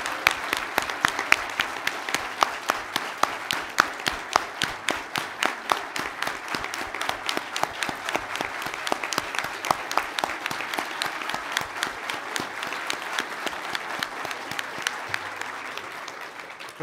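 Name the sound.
crowd applause on election night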